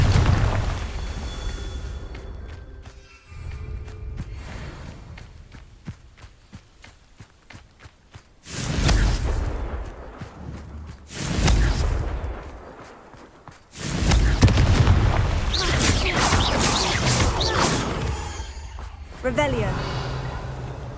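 Confringo spell blasts in Hogwarts Legacy, several loud booming bursts spaced across the stretch between footsteps, running and game noise, with a voice speaking in places.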